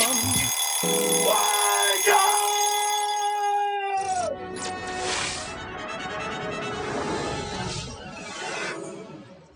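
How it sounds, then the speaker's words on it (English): A ringing alarm tone with sustained bright harmonics, shifting pitch a few times, then giving way to a busier burst of mixed sound. "now I think it's time to ring the alarm"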